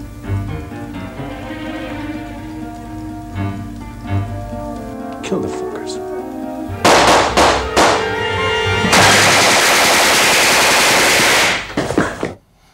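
Film soundtrack gunfire: steady orchestral music gives way to loud machine-gun bursts and rapid crackling shots that fill the scene for several seconds before cutting off abruptly.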